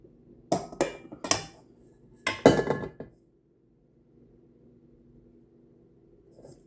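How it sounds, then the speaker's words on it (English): A spoon clinks and scrapes against a bowl while stirring a no-bake cheesecake mixture, with a few quick, bright knocks in the first three seconds and then near silence. "I should probably stir it a little bit and then do it again and make sure I got it all,"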